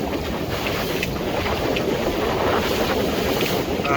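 A boat motoring out past the western breakwater at Looe with wind against tide: steady broadband wind rush and water wash dominate throughout, with a low engine drone beneath and no speech.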